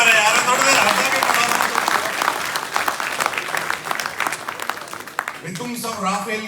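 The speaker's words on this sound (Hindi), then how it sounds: "तालियां फिर कमजोर है यार" Audience applause at a comedy show in India: a steady wash of clapping from a large crowd that gradually softens, then gives way to a voice speaking near the end.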